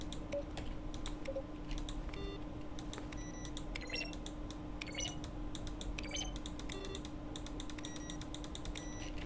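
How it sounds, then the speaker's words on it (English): Button-press sounds from the game The Stanley Parable, each a keyboard stroke blended with a synthesized tone, repeating as scattered sharp clicks over a steady low hum, fairly faint with no talking. "A selection of the sounds used throughout the game when buttons are pressed. Each sound is a mix of a keyboard stroke and a synthesized tone."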